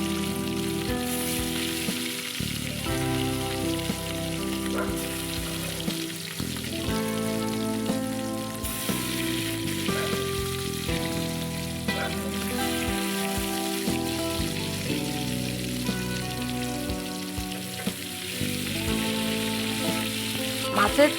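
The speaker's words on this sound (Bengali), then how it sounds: "এবার প্রথমে দেখো যে মাছগুলো পেটির মাছ, ডিমওয়ালা মাছগুলো, ওটাই আমি প্রথমে ভেজে নেব।" Roe-filled hilsa belly pieces fry in hot mustard oil with a loud, steady crackling sizzle that runs without a break, close up, while faint tonal music plays underneath.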